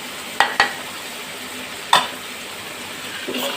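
A spoon scrapes and stirs tomato masala cooking in ghee in a frying pan for creamy chicken, with a few distinct scraping strokes over a low, steady sizzle.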